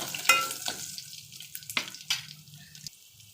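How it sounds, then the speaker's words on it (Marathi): Garlic cloves frying in hot oil with asafoetida as a tempering: a soft crackling sizzle with a few sharp spits and pops over about three seconds, heard up close. "लसणीच्या पाकळ्या घातल्या आहेत"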